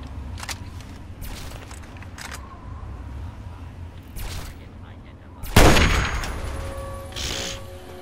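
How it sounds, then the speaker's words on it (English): Gunfire in the video game Fallout 3 while shooting a Protectron robot, a single sharp loud blast late in the clip over steady game ambience and background noise. "I lost karma for shooting the Protectron?"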